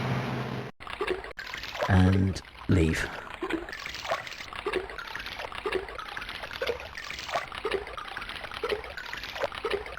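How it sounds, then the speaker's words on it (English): A splash of falling into water in the 1992 Alone in the Dark game: a short, sharp splash early on, followed by steady trickling and dribbling water, with a brief voice speaking near the start. "let's fall in the water"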